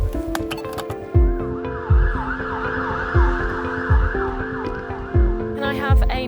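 An ambulance siren wails in a repeating rising and falling cycle over engine and road rumble, loud and close, with low thumps recurring about once a second.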